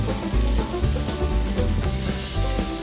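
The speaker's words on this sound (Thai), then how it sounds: "ทีนี้ก็ใส่เนื้อหมูลงไปผัด จากนั้นก็ตามด้วยกุ้ง" Pork and shrimp stir-frying with shrimp paste and stink beans in a hot pan, a steady close sizzle with scraping stirs and occasional spatula knocks, no voices.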